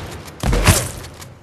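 A single sharp gunshot blast in H1Z1 King of the Kill, close and loud, with a short rumbling decay after the crack.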